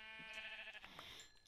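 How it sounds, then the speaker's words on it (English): A sheep bleats in Minecraft, one quavering, nasal cry lasting about a second, faint and alone with no talking. "And there is another sheep"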